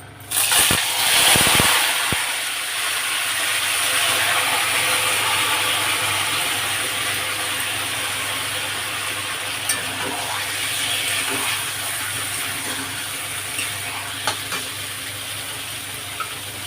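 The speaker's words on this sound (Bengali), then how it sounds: "তেল গরম হয়ে গেছে, মেখে রাখা মাংস দিয়ে দেবো।" Marinated chicken hits hot mustard oil in a heated pan, giving a loud, dense sizzle and crackle that starts sharply and then holds steady, with a few sputtering pops over the continuous frying hiss.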